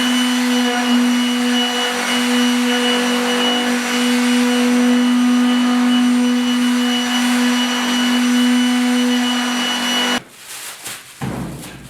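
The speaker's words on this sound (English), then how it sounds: "I'm just going straight with 320 on the palm sander" Palm sander with 320-grit paper working over dried Featherfill primer during bed repair on a 1972 Ford 4x4 short box, a steady loud whirring hum for about ten seconds before it cuts off into brief handling noises.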